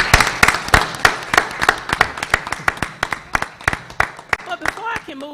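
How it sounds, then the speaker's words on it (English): Board meeting attendees clap for Ms. Curtis in a sparse, uneven round of distinct hand claps, close and sharp at first, with a few people speaking over the final second. "Let's give her a round of applause."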